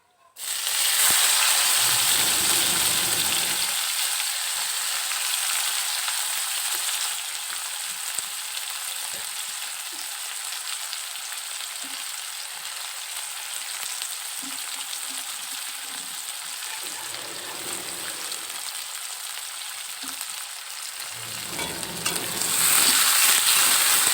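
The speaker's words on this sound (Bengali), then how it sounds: "একটু নাড়াচাড়া করে নেব এরপর দিয়ে দেবো পেঁয়াজ কুচি" Chopped onion frying loudly in a pan on a village kitchen stove, steady bright sizzle with scraping stir strokes near the start and end, no talk.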